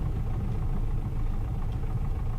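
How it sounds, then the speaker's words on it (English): Aircraft engine idling on the ground after power returns following a rejected takeoff: a steady, loud, low rumble with a slight vibration, continuous throughout with no talk. "Alright, we have our engine back."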